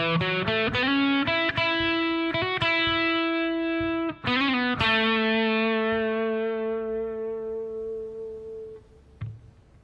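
An electric bass plays a quick melodic phrase of plucked notes through effects, then a long sustained low note rings out and fades, ending with a soft thump.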